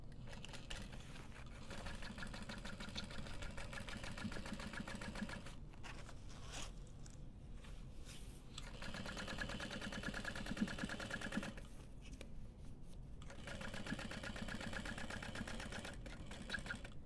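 A sewing machine topstitches through a bag's seam allowance and lining, a steady close mechanical whir running continuously with a few brief pauses, no talk.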